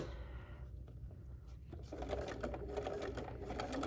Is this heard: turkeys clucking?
no